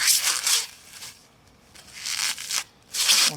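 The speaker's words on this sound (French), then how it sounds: "Donc j'essaie de déballer sans abîmer" Carbon-fibre TLYARD fog light trim for a Tesla is unwrapped from its packaging. Close, crisp bursts of plastic rustling and crinkling come and go in short spurts with quieter gaps between.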